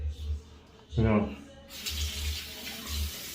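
A tap runs into a sink while shaving lather is built with cream or soap. A brief voice comes first, then steady hissing water flows for the last half, fairly close.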